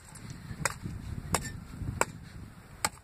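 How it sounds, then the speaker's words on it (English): Four sharp chopping strikes land at uneven intervals, crisp and fairly close, with faint background noise between them. "Chopping me some wood."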